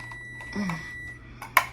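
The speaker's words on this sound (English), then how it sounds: "You may have heard a little timer go off in the background." A small kitchen timer goes off in the background while dinner cooks, giving a faint, brief electronic beep with a sharper chirp near the end, distant and quiet in a room.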